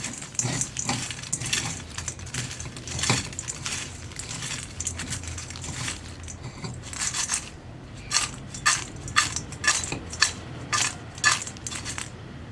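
Fried sweet banana chips made from ripe nendran bananas being tossed with salt, giving close, crisp rattling and clinking crunches in irregular bursts that grow busier toward the end.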